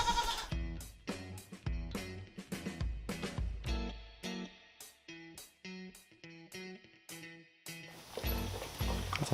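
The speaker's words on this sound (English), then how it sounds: "That's a happy goat." Goats bleat repeatedly at a farm hay feeder, a rapid series of loud, close, quavering calls overlapping one another with brief gaps, one after another throughout.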